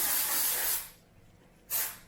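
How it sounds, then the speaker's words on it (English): Baking spray hisses into a cake pan in two close bursts: a long spray, a short pause, then a second shorter blast. "I have a spray, baking spray."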